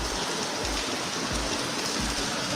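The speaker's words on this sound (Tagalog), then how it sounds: "Mukhang umuulan dun sa kanila." Steady rain falling outdoors during a funeral procession, a continuous dense hiss of drops with no voices, unbroken and fairly loud throughout.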